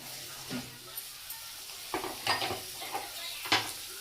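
Chopped tomato being stirred and sautéed into okra masala in a pan, with soft scraping strokes and a faint sizzle rising in several separate bursts toward the end, fairly quiet throughout.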